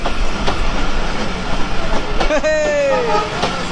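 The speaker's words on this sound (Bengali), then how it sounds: "এই যে মহানন্দা এক্সপ্রেস ট্রেন আসতেছে দেখুন" The Mahananda Express passenger train rolls past close by with a loud steady rumble and rhythmic wheel clatter, then a rising metallic squeal near the end. Voices are faintly audible.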